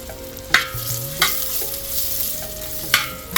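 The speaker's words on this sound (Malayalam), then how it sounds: "ഇനി നമുക്ക് ഒരു രണ്ട് സ്പൂണ് നെയ്യിലേക്ക് ഇച്ചിരി കപ്പലണ്ടി പരിപ്പ് ഒന്ന് വറക്കാം" Peanuts and raisins fry in a little ghee in a heavy pan for a Kerala pumpkin sweet, a constant bright sizzle broken by several sharp spoon scrapes and clinks, close and clear with no talking.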